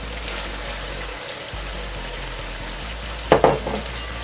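Carrots go into a pot of meat and softened onions frying for Samarkand plov, with a steady oily sizzle and a brief burst of sharper crackling as they land.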